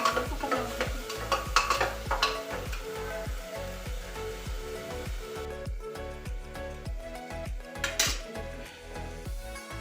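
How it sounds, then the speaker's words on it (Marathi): Cumin seeds being stirred and sautéed in a pan for a homemade meal: repeated scraping strokes of a utensil against the pan in a steady rhythm, over a soft background sizzle, close and moderately loud, with no talking. "करपलेले जिऱ्यांसाठी याला परतून घेते."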